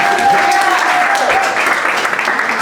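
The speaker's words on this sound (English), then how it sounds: "So let's give her a round of applause." An audience at a talk gives a speaker a round of applause: dense, loud, continuous clapping that fills the whole stretch, with faint voices mixed into the crowd.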